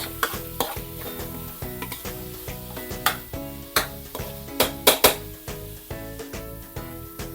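Five tomatoes sautéing in a pan for a pompano dish, with a steady sizzle under repeated scraping strokes of a spoon against the pan and a few sharper clinks, close and continuous.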